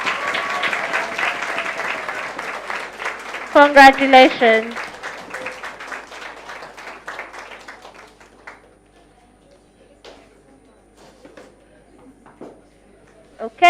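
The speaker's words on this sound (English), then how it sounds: "let's clap for her until she reaches here." An audience claps for the best speaker at a debate tournament. Steady applause runs for about eight seconds under a voice speaking over it, then fades into quieter talk.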